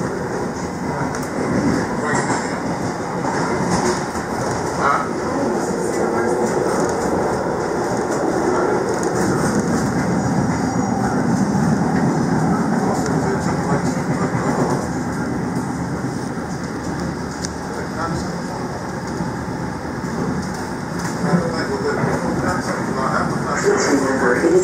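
A MARTA Red Line train runs toward Airport Station with a steady, loud rolling rumble and faint rail clatter that carry on throughout.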